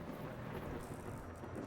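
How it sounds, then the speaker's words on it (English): Thunder rumbling in a space engineering video game during a storm, a faint, steady low roll mixed with rain-like hiss, with no voices over it. "Oh, hear that lightning?"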